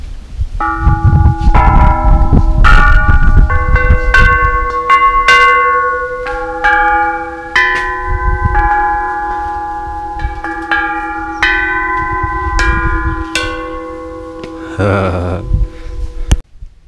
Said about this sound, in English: I might as well ring some bells